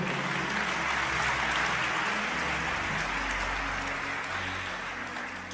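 A church congregation applauding the Lord during a sermon, a dense, steady wash of clapping from many hands that holds loud throughout and eases slightly toward the end.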